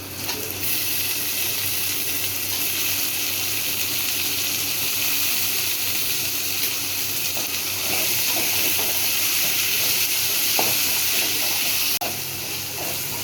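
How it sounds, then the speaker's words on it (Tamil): Eggplant frying in a pan with oil while being stirred, cooking for a spicy pepper kuzhambu; a steady, close sizzling hiss runs throughout, with faint scraping and stirring clicks toward the end. "இப்போ கத்திரிக்காய் போட்டுக்கலாம்."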